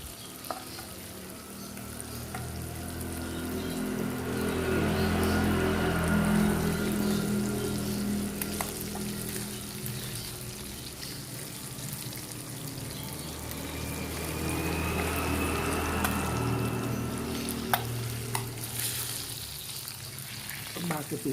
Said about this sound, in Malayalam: ബാക്കി പീസ് വിട്ട് നമുക്ക് ഫ്രൈ ചെയ്യാം.